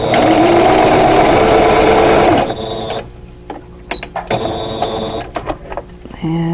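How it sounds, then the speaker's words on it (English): A sewing machine stitching a seam on a vintage quilt block, running fast and loud for a couple of seconds, then stopping into quieter clicks and handling of fabric and pins, with brief bursts of the motor near the end. "And get my seam down there. Okay, I'll pull this one out and then stitch the other one."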